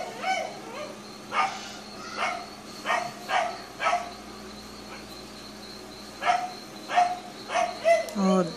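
A dog barks in a series of short, sharp yaps and yips spread across the stretch, fairly close and moderately loud over a quiet indoor background.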